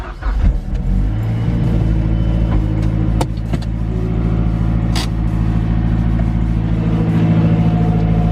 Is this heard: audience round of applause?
no